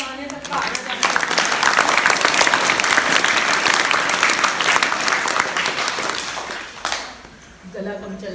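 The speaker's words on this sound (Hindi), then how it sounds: "गला कम चल रहा है, ताली कम बजाओ" A group claps together in loud, dense applause that holds steady for about seven seconds, then drops off, and voices follow near the end.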